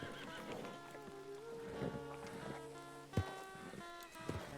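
A horse neighs and whinnies in a RedM Western roleplay game, amid dense game ambience with other layered sounds, fairly close and loud, with a sharp thud near the end.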